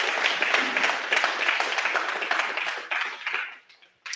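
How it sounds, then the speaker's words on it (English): Audience applause for teachers at a live Mastermind event in Orlando, Florida: a dense, steady crowd clapping that holds for about three seconds, then thins and fades out. "let's give them a round of applause."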